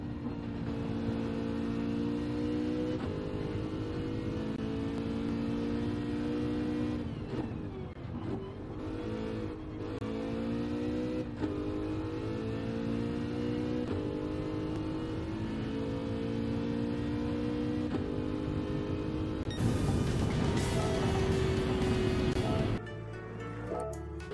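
Race car engine from Gran Turismo 7 lapping a European circuit, a steady loud tonal drone with shifting pitch as it revs up and down through gears and braking, brief louder burst near the end.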